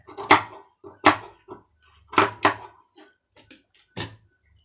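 Scissors snip through cloth while trimming fabric for a pom pom sewing design, giving about six crisp, close cuts spaced roughly a second apart, with faint handling sounds between them and no talking.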